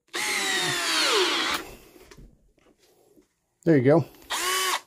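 An old 12-volt cordless power drill whirs loudly for about a second and a half, winds down, then gives two more short bursts after a pause, with a brief spoken remark in between.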